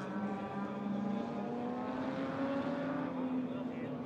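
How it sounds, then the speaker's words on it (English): A 1960 Maserati race car screams through corners at the Hungaroring in a 2017 race, its loud engine note wavering and then climbing steadily in pitch. "The Maserati is screaming through the corners"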